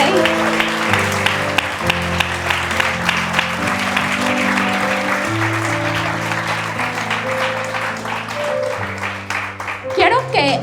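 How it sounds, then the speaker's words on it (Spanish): A congregation at a women's church workshop applauds loudly for several seconds while sustained keyboard chords play underneath. A voice also speaks over the clapping and music. "Dale un fuerte aplauso a ese rey"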